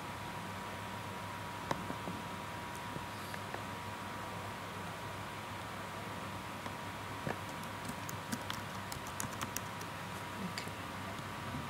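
Quiet scattered clicks of a computer keyboard as an entry is typed, faint keystrokes coming in short bursts over a low steady hum, clustering more densely toward the end.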